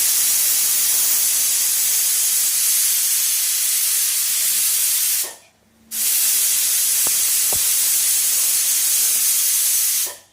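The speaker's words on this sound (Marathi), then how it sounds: "इथे आपल्याला कुकरला 2 शिट्ट्या घ्यायच्या आहेत." A pressure cooker cooking cabbage rice blows a loud, continuous steam whistle hiss close by. It cuts off briefly for about half a second midway, then resumes and runs to the end.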